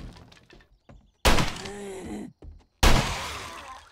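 Two loud, sharp gunshots from a firearm in the survival game 7 Days to Die, about a second and a half apart. Each blast is followed by a ringing, reverberant tail, with faint thuds and rustling beforehand.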